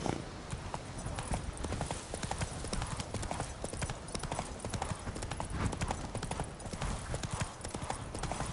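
A horse gallops in The Witcher 3 video game, its hooves drumming in a fast, steady clip-clop under a continuous game soundscape with a hint of whinnying, loud and close throughout.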